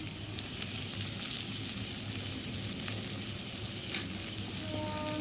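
Onion fries in a pan with a continuous, even sizzle and crackle up close, steady for the whole stretch with faint scraping hints and no speech.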